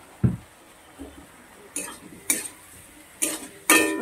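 Metal spoon scraping and knocking against a pan while ground turmeric, chilli and coriander spices are stirred and fried for a Bengali fish curry, coming as several sharp separate clinks and scrapes against a quiet background with no talk.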